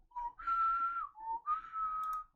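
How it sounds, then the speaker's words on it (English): The Drifter whistles a short tune in Warframe, two clear melodic phrases with a brief pause between them, close and alone. "you can hear the drifter whistling a tune"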